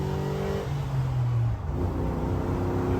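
An LS-engined Jeep CJ-7 accelerates hard, its engine note climbing through a gear, dipping at a shift, then rising again in a loud, close, steady roar.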